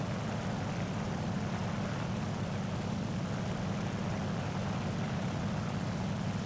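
Fw 190 D-9 propeller fighter engine in War Thunder, a steady, loud low droning roar with broadband hiss running unbroken throughout, no voices.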